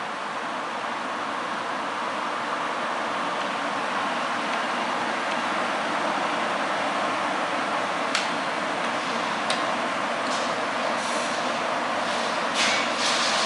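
An American Turnmaster 13x40 geared head engine lathe running with its cross slide moving, a steady mechanical hum and whir with a constant tone, a few faint metallic ticks near the end, no voices.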